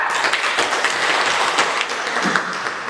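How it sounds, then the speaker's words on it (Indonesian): Loud, close classroom clapping for a student during a linear equations lesson, a short burst of many hands from a small group. "tepuk tangan untuk Firsa."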